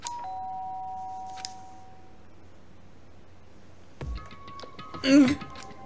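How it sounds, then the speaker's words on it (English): A doorbell in the Danganronpa video game chimes, with two clear ding-dong tones at the start and a quieter chime later. Game sound effects and a short burst of talk come near the end. "did I hear the doorbell?"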